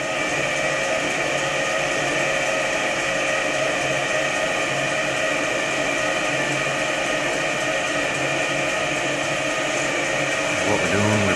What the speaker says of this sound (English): What we're doing, we're bringing the diamond wheel down.